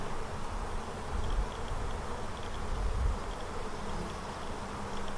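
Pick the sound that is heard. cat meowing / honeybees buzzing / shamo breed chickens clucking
honeybees buzzing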